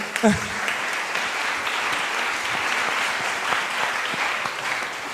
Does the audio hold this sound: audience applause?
yes